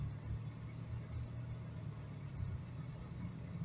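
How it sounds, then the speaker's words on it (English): A 2024 Mitsubishi Mirage accelerates gently at about 2000 RPM in 120°F heat, its engine a steady, low, moderately loud drone with no talk. "I'm going to be accelerating at about 2000 RPM"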